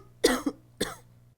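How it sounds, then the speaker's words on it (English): A woman gives a short cough, a quick double burst followed by a second single cough, close and clear against a quiet background. "She coughed a bit as she tried to say the following sentence."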